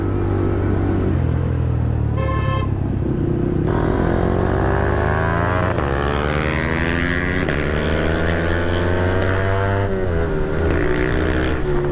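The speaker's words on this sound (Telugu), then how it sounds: "ఆ బైక్ సౌండ్ అర్థమవుతుంది, మన బైక్ సౌండ్ అర్థమవుతుంది" Two motorcycles ride together on an evening road, their engines droning steadily and loud throughout, with pitch rising and falling as the riders accelerate and ease off.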